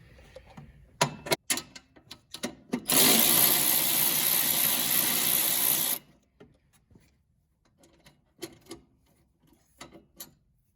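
A socket wrench with an 8mm socket and extension works bolts loose on a John Deere lawn tractor, giving a run of sharp ratcheting clicks, then a steady loud mechanical whir for about three seconds, then scattered quieter clicks.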